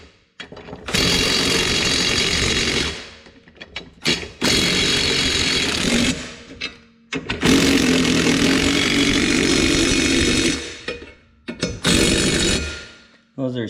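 A power tool tightens the self-locking blade nuts on a Toro Recycler Personal Pace mower in four long, loud whirring bursts separated by short pauses.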